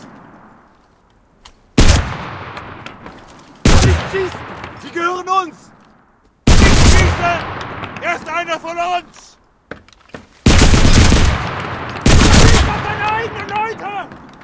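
Repeated loud bursts of MKB-42 H rifle fire in the video game Enlisted, five sharp volleys spread across the stretch with short gaps, and German soldier voices shouting between and under the shots.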